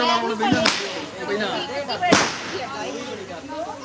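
Two firecrackers go off a second and a half apart, each a sharp, cracking bang, with people talking around and between the blasts.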